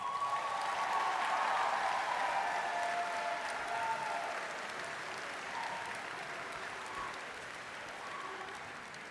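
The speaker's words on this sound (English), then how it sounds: "Could we please have one final round of applause?" A room of guests at the Waterloo Warriors athletics awards banquet gives a final round of applause, sustained and full at first, then gradually thinning and fading, with a few faint cheers mixed in.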